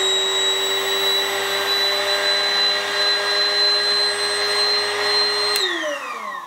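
An electric airbed pump whines steadily and loudly up close, with a high, constant motor tone, then cuts off abruptly near the end as it is switched off.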